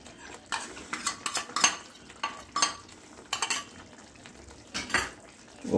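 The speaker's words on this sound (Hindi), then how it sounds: "और अच्छी तरह से चला लेंगे।" A spoon scrapes and clinks against a pan while milk premix is stirred into a simmering curry, in a series of uneven clattering strokes over a soft sizzle.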